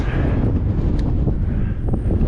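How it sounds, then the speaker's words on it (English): Strong wind roars across the microphone in a steady, loud rumble while cycling on open high plains near Gainesville, Texas, with no voices over it. "Today it's pretty windy, but it gets a lot worse."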